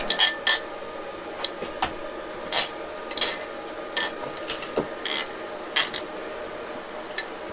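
Metal electrical fitting being screwed into place while wiring an off-grid solar EV outlet: repeated short scraping, rasping twists in uneven bursts, close up, with no voices.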